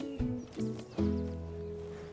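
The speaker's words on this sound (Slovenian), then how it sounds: "Harry je konj." A cartoon horse in a children's farm show whinnies and snorts in a few close, loud bursts, with soft clip-clop and a faint voice underneath; no words are spoken.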